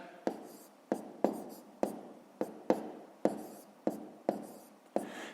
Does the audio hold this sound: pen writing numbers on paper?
yes